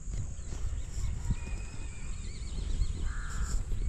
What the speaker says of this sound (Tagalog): artista na rin yung uwak ay vlogger na rin yung uwak